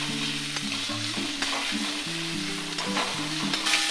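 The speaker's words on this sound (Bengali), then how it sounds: "পেঁয়াজ রসুনটা আমার ভাজা হয়ে গিয়েছে। এবার আমি মাছটা দিয়ে নেব।" Rohu fish pieces fry in a pan with already fried onion and garlic, making a continuous close sizzle with stirring scrapes and a few sharp clicks, while low steady tones run underneath.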